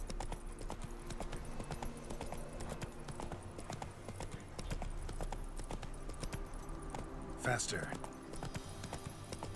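Roach the horse in The Witcher 3 gallops with quick, steady clip-clop hoofbeats throughout, briefly joined by a short whinny, while someone talks over it.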